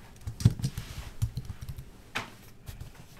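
Light, irregular clicks of typing on a Surface Duo keyboard, tapped close by in short uneven bursts with brief pauses.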